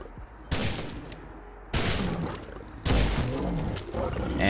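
Three loud, heavy shots from a modded revolver fired at a Deathclaw in the video game Fallout 4, each blast sharp and booming with a ringing tail, spaced about a second apart.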